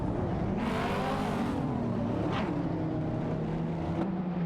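Race cars in an AI racing video game jockeying for position, with steady engine drone and a few sharp passes whooshing by as cars overtake.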